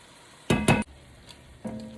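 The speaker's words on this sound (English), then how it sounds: "We give them a stir, cooks around with the meat." Ham hock, bacon and onions stirred in a pot with oil and butter: two quick, loud scraping strokes, then a softer one, over a low steady sizzle.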